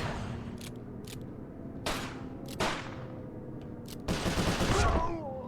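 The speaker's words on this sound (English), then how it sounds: "Looks like you're gonna have to shoot your way" Video game gunfire from Sly Cooper: Thieves in Time crackles as several sharp shots over a steady background hum, with a denser, louder burst of shooting near the end.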